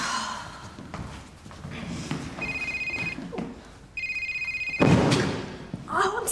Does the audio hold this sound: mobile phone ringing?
yes